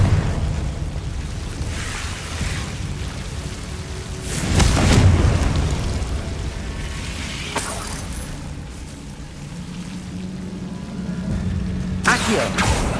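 Confringo fire spells explode in Hogwarts Legacy: booming, rumbling blasts at intervals over a dense roar of game sound, with a loud burst midway and another sharp hit near the end.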